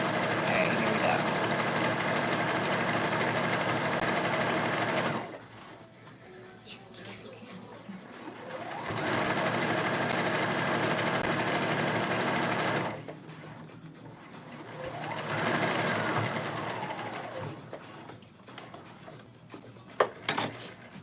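A home sewing machine stitches a polo shirt with backstitching, running in three steady whirring bursts separated by short pauses, loud and close.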